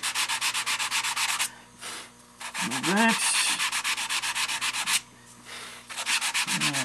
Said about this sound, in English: So I'll go ahead and sand that down